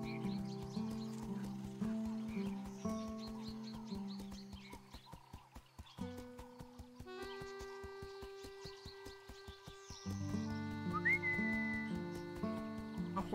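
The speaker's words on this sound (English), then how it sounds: "A horse." A horse neighs once over steady clip-clop hoofbeats in the video game Gaucho and the Grassland, set against a looping farm-game melody.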